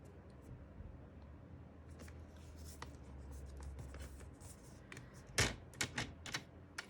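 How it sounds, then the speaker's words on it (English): A paper trimmer's scoring blade drawn across paper, a quiet steady scraping that ends in several sharper, louder strokes as the blade passes over the sheet a few more times. "this is the scoring blade. I have to go over it a couple of times."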